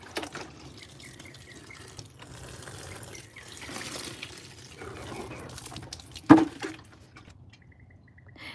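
Water trickles and splashes softly as it is poured onto soil to wet it for transplanting seedlings. It is faint and uneven, with one sharp clunk partway through.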